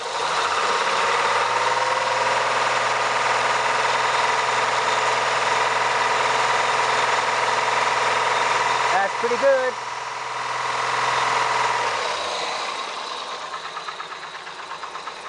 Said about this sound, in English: run the engine somewhere between 2000 and 2500 RPM and have a look at the pressure that's produced